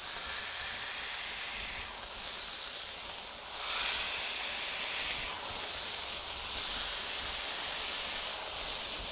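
Smashburger patties sizzle and steam on a hot Blackstone griddle, a steady loud hiss that holds throughout and swells briefly about midway, with no voices.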